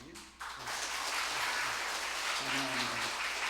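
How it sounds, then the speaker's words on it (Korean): An audience at a health lecture breaks into warm applause to welcome a doctor to the stage, a steady, moderately loud patter of clapping with a voice speaking over it at moments. "저 방태환 원장님 소개할 때 큰 박수로 환영해 주시기 바랍니다."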